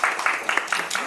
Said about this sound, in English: We applaud our teachers